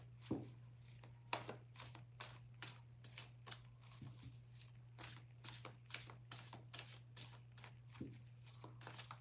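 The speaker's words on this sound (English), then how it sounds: "Just want to get a good shuffle." Playing cards shuffled repeatedly in quick bursts, crisp riffling clicks in an irregular rhythm over a steady low hum, fairly faint and close, with no talking.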